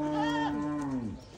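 A single close animal call from a goat on a farm in Ecuador, a drawn-out, strongly pitched cry that holds steady and then slides downward before fading, heard alone.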